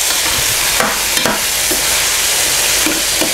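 Onion, garlic and tomato sauté in a hot pan for Filipino picadillo, giving a steady loud sizzle with several scraping stirs of a utensil, close and continuous, with no talking.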